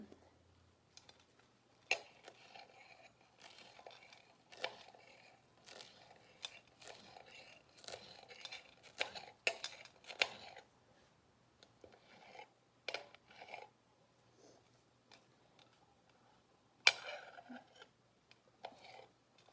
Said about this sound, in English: I'm going to grab our rinsed cilantro, and begin to chop it.